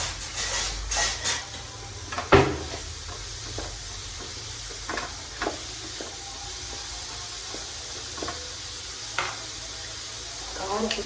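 Crushed onion, garlic and ginger frying in a pan for mushroom rice, a steady close sizzle with occasional stirring scrapes and clinks, no talk.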